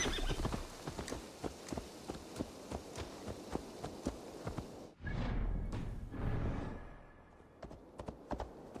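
A horse gallops in Assassin's Creed Valhalla with a steady run of hoof clip-clops. The hoofbeats stop midway and give way to a loud, drawn-out whinny and snorting breaths, all without talk.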